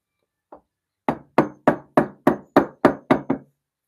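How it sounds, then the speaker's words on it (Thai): A mallet knocks tight wooden dowels into the joints of a knock-down bed frame with drawers: one light tap, then eight sharp, evenly paced wooden thwacks, close and clear with no talk. "ก็เดี๋ยวจะใช้ ตัว คอนเคาะนิดนึงนะครับผมเพราะว่าเดือยเราก็จะทำไว้ อ่าค่อนข้างที่จะแน่นนะครับ"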